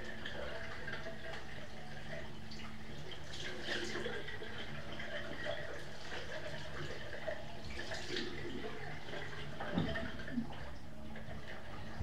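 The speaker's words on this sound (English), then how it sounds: "Now I'm gonna go and rinse this off" Tap water runs steadily nearby while skincare product is rinsed off a face, with splashes and faint drips over a constant rushing wash.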